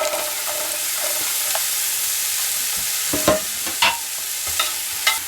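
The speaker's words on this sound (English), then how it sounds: "we're going to add our onion that we diced" Diced onion sizzles in hot olive oil in a skillet over medium heat, a steady frying crackle throughout with a few louder pops and stirring scrapes near the end.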